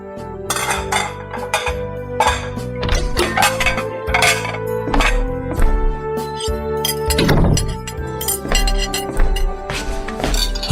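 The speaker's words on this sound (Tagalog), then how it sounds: "Kukuha na po ako ng mga plato at baso." Plates, glasses and dishes clink and clatter repeatedly while a table is set for a home meal, a busy run of close, bright knocks and rings with no talk.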